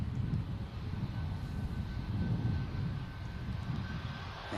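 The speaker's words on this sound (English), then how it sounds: "plenty of aircraft making their way over to the south side now, just before they close this runway" Aircraft at Manchester Airport taxi with a low, steady, rumbling engine drone, constant and moderately loud with a faint thin whine above it, with no voices.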